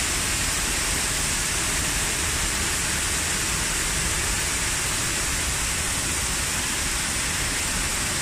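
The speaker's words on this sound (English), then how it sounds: "Waterfall here." A waterfall at the Kyodo no Mori museum park in Fuchu, heard as a steady, dense rush of falling water, loud and unbroken throughout with no talking.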